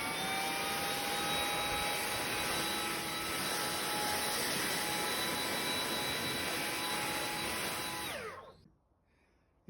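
A leaf blower engine revving, a loud, continuous high-pitched whine holding steady for several seconds, then cutting off abruptly.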